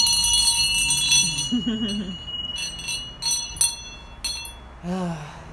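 A small hand bell rung during a new moon healing session, a few bright ringing strokes with lingering metallic overtones, heard close amid soft room noise and brief moments of voices.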